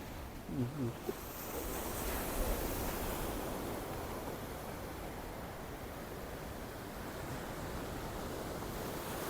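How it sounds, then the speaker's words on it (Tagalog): A brief murmur of voices, then a steady roar of waves crashing and rushing, loud and continuous with a washy hiss. "Ganito pala pagka malakas ang alon, no?"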